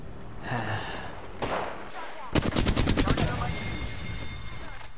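Rapid automatic gunfire bursts out in a shooter video game, loud, close rattling volleys following quieter in-game sounds, with a player's voice audible around them.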